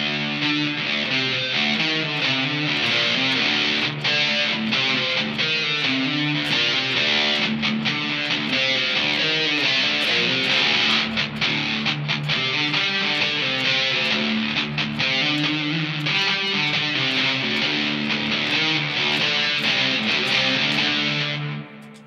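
A distorted electric guitar played through a T-Rex Binson Echorec echo unit produces a loud, sustained, saturated wash of notes. Echo repeats smear into a dense, reverb-like texture that lasts throughout, with no one talking over it.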